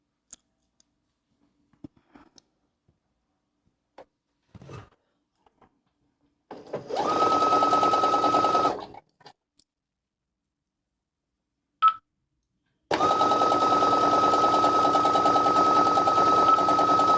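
A sewing machine stitches a tee in two bursts, a short run and then a longer steady whirring stretch, with scattered small clicks and handling noises in the quiet gaps before.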